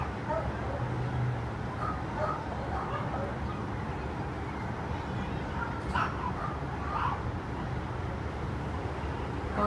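Barking and yipping from stray dogs in an animal shelter play yard, steady through the clip over a constant outdoor hum with distant traffic and brief voices.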